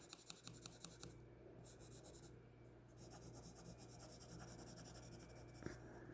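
Pencil graphite drawing lines on paper, a close, steady scratching that comes in short strokes at first and then in longer continuous runs.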